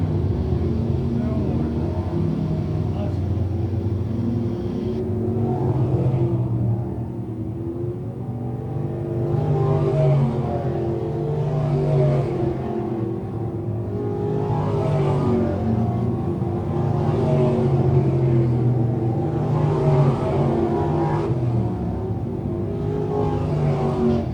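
Several 602 crate sprint cars run laps on a dirt speedway, a continuous engine drone rising and falling as they circle, steady and fairly loud under a race announcer's talk throughout.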